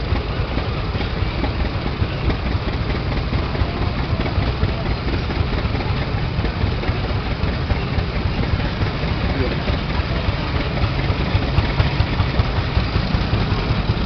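A 306 tractor with a stainless steel muffler idles close by with a steady, loud, low rumble and even chugging pulse that holds unchanged throughout.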